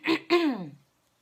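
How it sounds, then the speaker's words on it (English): Someone clears their throat twice in quick succession while braiding hair, close and fairly loud, the second rasp longer and trailing off into silence. "I just have to keep clearing my throat."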